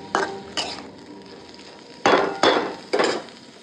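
Fish roe and chopped vegetables fry together in a pan, with five sharp, close spatula strokes scraping and knocking against the pan over a low sizzle.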